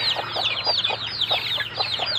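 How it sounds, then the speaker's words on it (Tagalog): Chickens and newly hatched chicks at a hatching, a dense chorus of high cheeping peeps over soft repeated clucks, close and continuous without talk. "So marami na akong manok dito guys."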